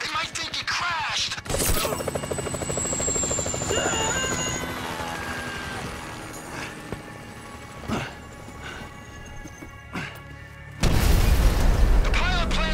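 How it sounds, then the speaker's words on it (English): Helicopter in Grand Theft Auto V, a steady rotor drone with whining engine tones, broken by loud sharp booms of gunfire or impacts and a heavy blast near the end. "If I hit the chopper, everyone's gonna know we're here."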